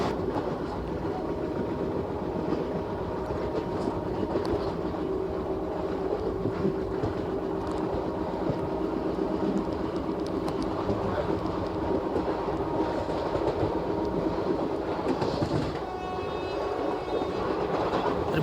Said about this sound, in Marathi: मित्रांनो, क्रॉसिंग होतंय लोणावळा पुणे लोकल सोबत.